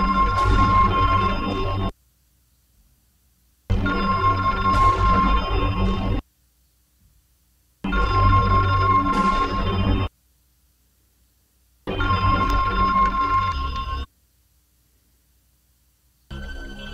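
A telephone in a bedroom scene of the 1984 horror film A Nightmare on Elm Street, its phone disconnected from the wall, rings in four loud, regular bursts of about two seconds, separated by silences, with a fifth ring starting at the end.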